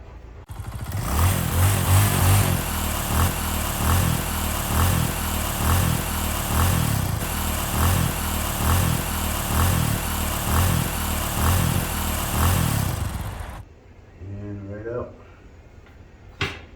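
A motorized bead roller runs steadily on sheet metal during body fabrication on a 1957 Thunderbird, a loud continuous mechanical whir with a regular rhythm that stops abruptly, followed by a person speaking.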